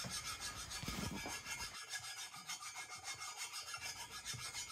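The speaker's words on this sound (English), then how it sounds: "I use my fine file to dress down the welds on the top surface and remove any burrs" A fine hand file rasps back and forth over welds on the top surface of a Kawasaki Z1 Super Six motorcycle cylinder head, in steady rhythmic strokes, quiet and close, with no talking.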